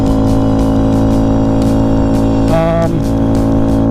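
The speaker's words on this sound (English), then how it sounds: "If there's one thing I would say about the exhaust, is that I'm pretty sure you can hear it." A 2022 Honda Grom motorcycle fitted with a performance exhaust runs close by, holding a steady, loud engine drone throughout with a brief pitch wobble partway through.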